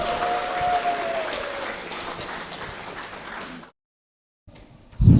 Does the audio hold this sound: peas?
no